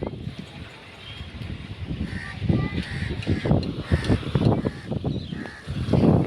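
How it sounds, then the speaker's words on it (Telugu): A crow caws repeatedly in a village near a school building. The short harsh calls come in irregular bursts over open outdoor ambience, with a voice talking in the background. "చూసారా, కాకి ఎలాగుందో."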